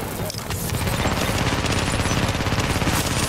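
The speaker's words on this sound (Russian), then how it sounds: "Стреляют по мне." Gunfire in The Division, a dense, loud stream of rapid automatic shots that goes on without a break after a brief quieter start.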